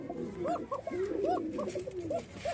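Pigeons coo in a steady series of soft, rounded rolling calls, close and clear, several birds overlapping with no speech over them.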